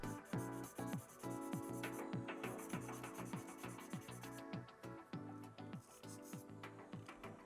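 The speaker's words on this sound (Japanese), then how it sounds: "ふくらはぎのダボのところをもう一度しっかりと削り直して、さらに膝のパーツをはめるところも少し削っておきます" A blade or file shaving down the plastic calf peg of an HGUC Revive Gundam Mk-II model kit, quiet rhythmic scraping strokes repeated steadily under steady background music.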